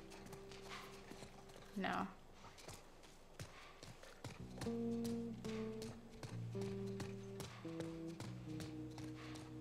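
Horse hooves clip-clop in a steady rhythm in The Last of Us, alongside sustained musical tones, and a voice briefly speaks.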